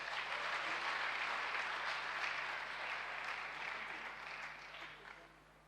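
Church congregation applauding during a worship service, a broad wash of clapping at moderate distance that slowly fades over several seconds.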